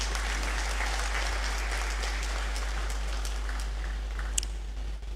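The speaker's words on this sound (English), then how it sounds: "Please, let's welcome her with a round of applause." Steady audience applause welcoming the Registrar at a university congregation ceremony, even and sustained clapping with a low hum underneath, tapering off near the end.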